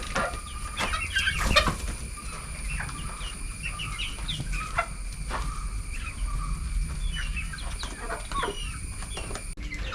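Chickens cluck and chatter in short bursts, several birds close by, with a steady background hum and scattered pecking noises.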